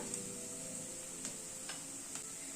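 Onion fries lightly in a pan with a steady, even sizzle throughout, punctuated by a few faint clicks as it is stirred.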